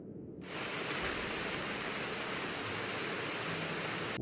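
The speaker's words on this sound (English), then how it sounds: "I almost drowned in that waterfall." A waterfall in the video game Gothic 1 Remake swells in after a quiet half second into a loud, steady, dense roar of crashing water that continues without a break.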